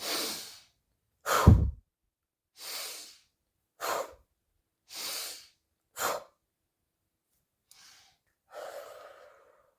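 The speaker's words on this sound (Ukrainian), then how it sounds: "І тепер різко вдих, видих три рази." Sharp breaths taken through the nose and mouth during a guided breathing exercise, in short forceful inhales and exhales; five quick bursts come at a steady pace, then two fainter, softer breaths follow.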